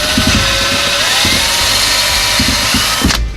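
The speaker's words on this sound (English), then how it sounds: "I'm gonna have to drill out this factory hole in it just a little bit" A power drill whines loudly and steadily, its pitch dipping and surging as it bites through plastic while enlarging a factory hole on a Mustang GT fuel pump part, with short bursts of grinding, then stops abruptly.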